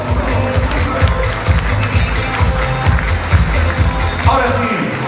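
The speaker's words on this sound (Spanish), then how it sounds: "voy a pedirles un fuerte aplauso a todos ustedes por ser presente aquí en Casino Magic. ¡Fuertes aplausos!" Loud applause from a crowd at Casino Magic, clapping fast and steady with cheering mixed in, over a pulsing low rhythm in the background.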